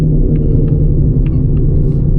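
A Whipple-supercharged S650 Mustang with a new 900 hp setup rumbles steadily up close, a deep, continuous engine drone holding even throughout with no talking.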